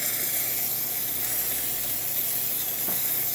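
Steam wand on a Jura Impressa F9 espresso machine hissing: a continuous, loud, broadband rush of steam, close and steady for the whole stretch, with no talking.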